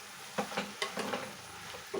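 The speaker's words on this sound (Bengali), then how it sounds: "শাকগুলো দিয়ে দেওয়ার পর আমি আরও 5 মিনিট ধরে ভালো করে কষিয়ে নেব" Greens and prawns frying in a pan for a prawn and spinach-style curry, with close, light scraping and stirring strokes in quick bursts over a soft sizzle.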